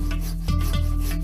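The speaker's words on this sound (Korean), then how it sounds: "톱질을 멈추지 않는 주명신 씨" A hand saw cuts through hinoki cypress wood in a cypress forest. Rough, rasping strokes repeat in a steady back-and-forth rhythm, close and loud, with no voices.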